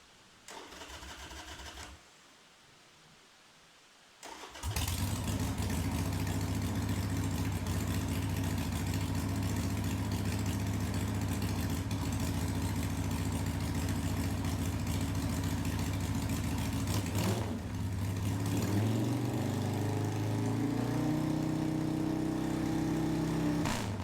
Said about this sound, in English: let's put our cover back on and crank the bike